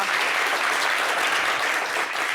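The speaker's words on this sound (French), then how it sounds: "On applaudit" A studio audience bursts into loud, even applause, a thick continuous patter of many hands close by, steady throughout with no talk on top.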